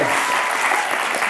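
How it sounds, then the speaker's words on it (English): An audience at a live stage magic show with a deck of cards bursts into loud, dense applause after a card reveal, a continuous roar of clapping filling the moment. "you get a massive round of applause"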